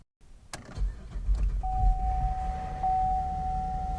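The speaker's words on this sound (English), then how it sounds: "There's nothing like swapping your own engine and hearing that car start up" A car starts up after an engine swap, the engine catching and settling into a steady idle with a sustained whine, close and fairly loud, with some clicks and rattles before it fires.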